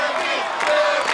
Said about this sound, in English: The crowd's chanting Flippy.